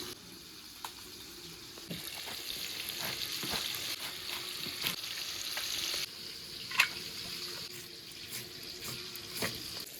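Rohu fish pieces frying in hot oil in a pan, a steady close sizzle with scattered crackles and a few light clinks of a utensil, no one talking.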